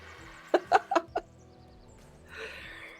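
A stream donation alert plays a Giganotosaurus roar: four short, sharp bursting calls in quick succession, followed by a soft, airy rumble that fades out, heard alone without talk.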